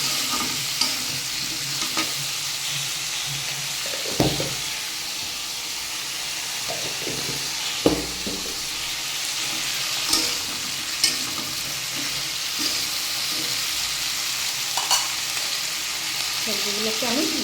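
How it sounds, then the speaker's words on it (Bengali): Vegetables and green chili are stirred and fried in a pan for a vegetarian dish, with a steady close sizzle and scraping stirs, some sharper utensil knocks at irregular intervals. "এভাবে নেড়ে চেড়ে সবজিগুলোকে খুব ভালোভাবে কষিয়ে নেবে"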